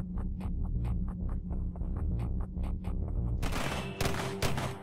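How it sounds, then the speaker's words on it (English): Rapid gunfire while shooting flies in the video game Wrought Flesh, a fast run of sharp repeated shots over throbbing game music, ending in louder, denser bursts. "just hear what it sounds like when I start shooting these flies"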